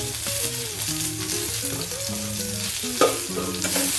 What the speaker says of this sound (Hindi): ये डाल के सभी को अच्छे से भूनना है। टमाटो को भी भूनना है।